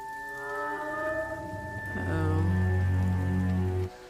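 Steady rain falls in a scene from Moon Knight episode 5, 'Asylum', a soft wash of noise beneath sustained, droning musical tones that swell and then cut off near the end.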